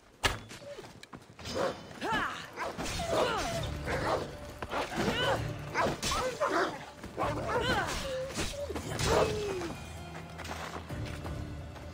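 A dog in Assassin's Creed Odyssey gives repeated yips, barks and whimpers in an uneven burst pattern, close and fairly loud, mixed with a person talking throughout.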